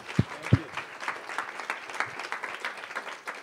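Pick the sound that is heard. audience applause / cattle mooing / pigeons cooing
audience applause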